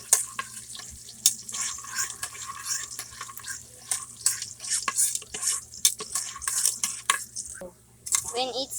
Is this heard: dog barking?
no